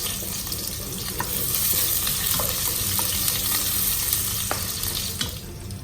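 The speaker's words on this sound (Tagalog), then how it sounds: "Lagyan na natin ang bawang. Okay, sibuyas." Garlic and onion sizzle steadily in hot cooking oil in a casserole pot, a continuous bright frying hiss with occasional soft stirring clicks, close and fairly loud, no voices.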